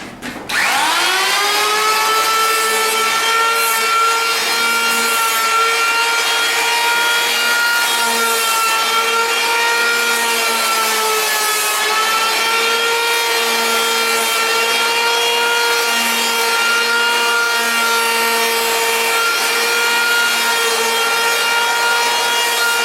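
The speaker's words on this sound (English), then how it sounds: "But in this case I do have a power planer" A power planer shaves the edge of a Duraflex bathtub surround panel, its motor holding a loud, steady, high-pitched whine close by for over twenty seconds with no talk.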